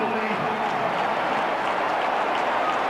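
A large football stadium crowd at a Washington Redskins vs Dallas Cowboys game roars after a tackle short of the goal line, a dense, steady wall of cheering and applause with a commentator's voice under it.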